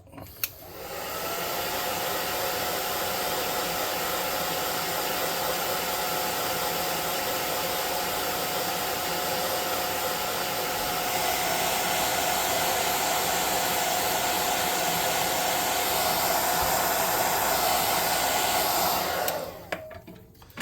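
A hair dryer blows steadily and loudly to air-dry freshly painted cards, switching on near the start, shifting to a slightly brighter, stronger setting about halfway, then cutting off near the end with no talking.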